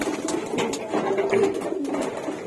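Pigeons waiting to be fed coo in a steady, overlapping murmur close by, with soft throaty rolls rising and falling throughout.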